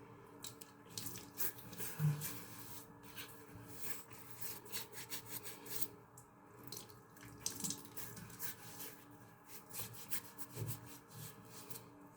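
Warm water splashed and rubbed onto the face before a traditional straight-razor shave, soft wet patting and rubbing strokes repeating over several seconds in a quiet room, close and fairly faint, with no speech.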